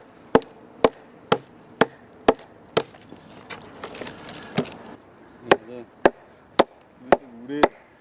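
Hard oak is chopped for a campfire, about a dozen sharp, loud wooden chops in a steady rhythm with splintering cracks between some strikes, outdoors at a campsite, with faint voices in the background.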